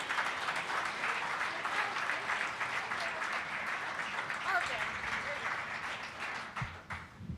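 Audience applause at a community coalition meeting as a guest is called to the stage, dense steady clapping from a crowd sustained for several seconds before tapering off near the end.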